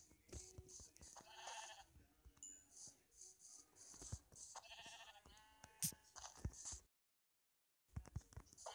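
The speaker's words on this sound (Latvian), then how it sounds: "Te ir aitas." Sheep bleat in the Minecraft video game amid a grassy farm scene, the short game bleats popping up among a person's ongoing talk and other game sounds, with a brief silent gap near the end.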